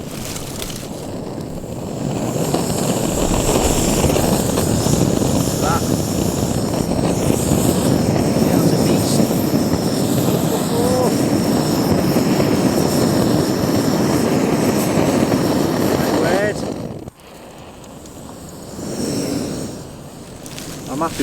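An OEX Vulcan gas camping stove burner roars after ignition in woodland, a loud continuous broadband rush that cuts off abruptly near the end, with someone talking briefly.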